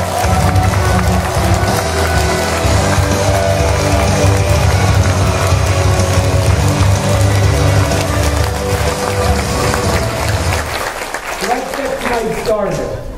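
Large audience at a Hanoi seminar giving a loud, warm round of applause to welcome a speaker, dense continuous clapping with crowd noise that fades near the end as a voice begins.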